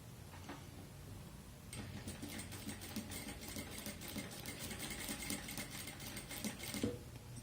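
A sewing machine stitches patchwork fabric along a diagonal seam, starting after a short pause into a steady, rapid mechanical rattle that runs for several seconds, then stops abruptly near the end.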